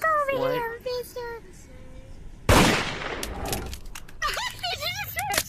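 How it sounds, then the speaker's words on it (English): A gunshot in the VRChat video game rings out as one loud, sharp broadband burst with a brief tail, set between stretches of animated speech before and after it. "Did you just try to shoot me?"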